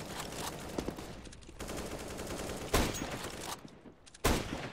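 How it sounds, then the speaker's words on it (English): A flashbang grenade goes off on the Dust2 map in Counter-Strike, set within loud bursts of gunfire and sharp blasts that come in repeated clusters, with no voice over them. "Deploying flashbang."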